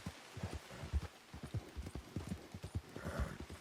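Horse hooves in Red Dead Redemption 2, a steady rhythmic clip-clop of a walking mare on hard ground, close and clear, with a faint rain-like patter behind it.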